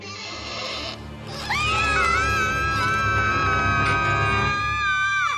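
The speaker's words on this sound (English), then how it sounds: "Y'all can stop screaming now." Cartoon ponies scream in fright together, with several loud, sustained high-pitched shrieks that rise sharply and hold over a noisy background.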